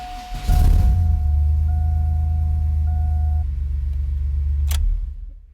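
A 2000 Chevrolet Blazer cranks briefly, catches, and settles into a loud, low, steady idle close by, with a faint tone running alongside before the engine cuts off near the end.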